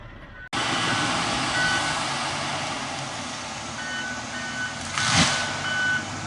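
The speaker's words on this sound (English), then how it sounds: "here comes the loader." Log loader arriving at a roadside clearcut logging site, its reversing alarm beeping steadily over a loud continuous diesel engine rumble, with a brief louder swell near the end.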